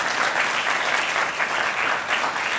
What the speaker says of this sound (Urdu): اس اچھی خواہش کے لیے زوردار تالیاں